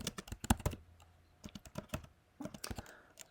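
Fingers type a telnet command on a computer keyboard, a quick close series of clicking keystrokes in two bursts with a short gap between them.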